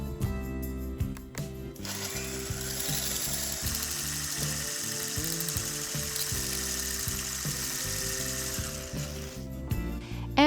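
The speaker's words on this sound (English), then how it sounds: "And we're done whisking." An electric hand whisk beating vegan tiramisu batter runs steadily for about ten seconds with a close, continuous mechanical whir and rattling motor buzz, starting and stopping abruptly.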